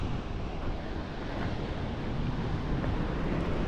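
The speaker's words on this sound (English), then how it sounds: "there's a few waves coming in today" Ocean surf rolls in at a rocky beach with loose stones and a slightly bigger swell than usual, a steady broad wash of waves mixed with wind rumble, moderately faint and continuous with no voices.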